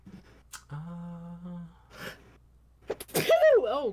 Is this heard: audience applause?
no